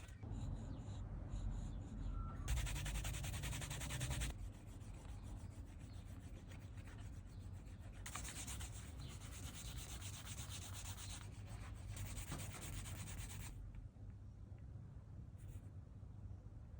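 Steady dry rubbing of a leather edge being burnished by hand, a continuous close friction hiss with brief pauses and changes in stroke pressure, no talking.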